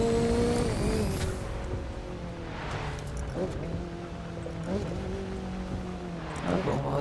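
Racing car engine in The Crew 2 video game surging under a nitro boost, a steady loud drone with rising pitch sweeps and brief whooshes, tire and traffic noise around it, with someone talking over it.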